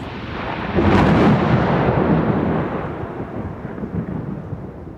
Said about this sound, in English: the loudest sound boomed across the sky as the lightning struck the pine tree